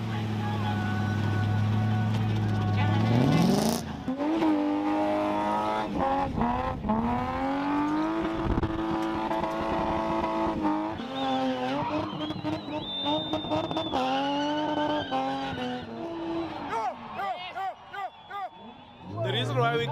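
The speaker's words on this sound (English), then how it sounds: "so they would spin the cars" Cars spin and skid at a spinning motorsport event in South Africa, engines revving hard and tires squealing continuously for the whole stretch, loud and close, with crowd noise in the background.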